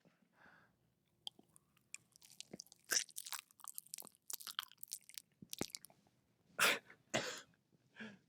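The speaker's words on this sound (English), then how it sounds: "Just chew it real close to the mic" Wet, crunching chewing right against a microphone, done as a sound-effect recording for a Mortal Kombat game, coming in irregular bursts of close, sharp crunches and smacks with quiet gaps between them.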